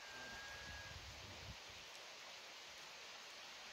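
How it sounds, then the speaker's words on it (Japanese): Heavy rain pours steadily during shore surf-casting on the coast toward Atsuta, a dense, even hiss that fills the whole clip with no voices. "すごい雨降ってます。"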